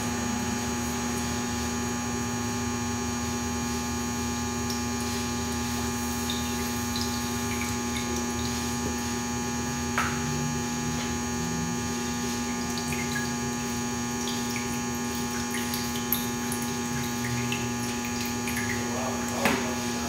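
A Hockmeyer HM 1/16th MicroMill runs while media is loaded into it, a steady electric hum and mechanical drone with a few faint clicks and knocks over it.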